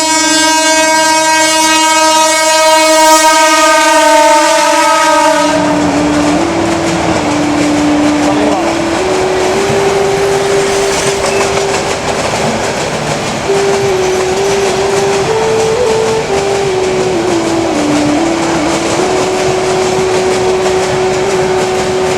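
A train sounds a long, loud, blaring horn, then roars past with a heavy rumbling clatter of rolling cars that lasts throughout, while a voice speaks over the noise.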